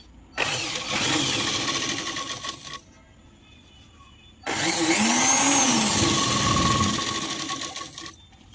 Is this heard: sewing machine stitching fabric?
yes